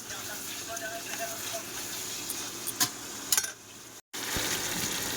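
Curry sautés in a pan with a soft continuous sizzle, broken by a few sharp clinks of a utensil against the pan and a brief cut in the sound near the end.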